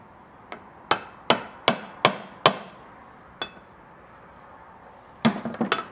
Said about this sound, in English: So get a socket or something that is about the right size and slowly tap it in there.